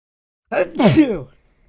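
A single sharp human sneeze, a quick intake followed by an explosive burst, close and loud against silence.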